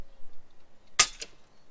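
An FX Impact M3 air rifle fitted with a power block firing a 20-grain pellet, one sharp, close crack followed a moment later by a fainter second snap, in an otherwise quiet setting.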